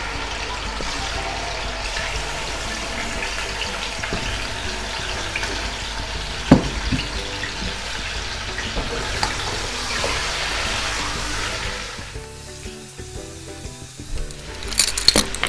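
A kilo of large chicken pieces sizzles steadily in hot oil for nihari, a continuous crackling fry with a few sharper pops and a quieter stretch near the end, no talking.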